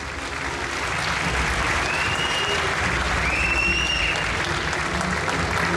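Loud, steady applause from the audience at a youth choir's Atatürk commemoration concert, a dense continuous wash of clapping that holds throughout, with faint voices and a few whistles rising above it.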